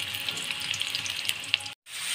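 Chopped onions fry with salt in a hot pan for a thin fish curry, a steady bright sizzle running close and continuous, cut by a brief silent gap near the end.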